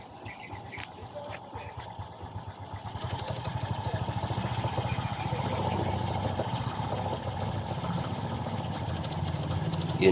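A Honda XRM 125 motorcycle engine with a hard-starting fault sputters, catches and settles into a steady rattling idle, getting louder after a few seconds and running on without pause.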